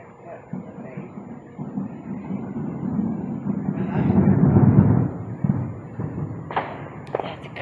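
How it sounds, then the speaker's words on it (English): Deep booms and rumbles from fireworks in the distance, swelling in the middle, with a few sharper crackles near the end and voices faintly heard. "There's a fireworks in the background"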